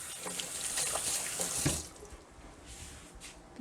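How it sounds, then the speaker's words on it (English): Hands being washed under a running kitchen tap during jam making: a close, steady splash of flowing water that thins out after a couple of seconds, with no voices. "first I wash my hands"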